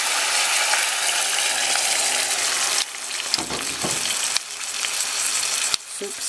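Water poured into a pot of beef and onion for beef nilaga, a loud steady hiss and rush with a few abrupt clunks and shifts as the pour changes.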